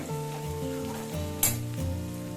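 Onions sautéing in a pan for chapathi thokku, a soft continuous sizzle with a brief metallic clink of a utensil partway through, close and alone.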